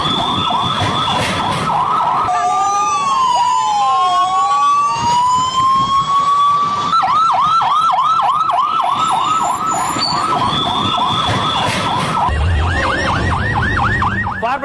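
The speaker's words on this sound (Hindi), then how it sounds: "देखिए फायर ब्रिगेड की गाड़ियां मौके पर पहुंचने लगी" Fire brigade vehicles wail and yelp with sirens at a plane crash site in Ahmedabad, several loud overlapping sirens cycling continuously between slow wails and fast yelps, close by, with no talking.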